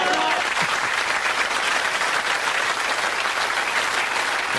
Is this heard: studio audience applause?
yes